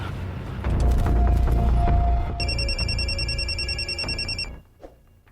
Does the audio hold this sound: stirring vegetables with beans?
no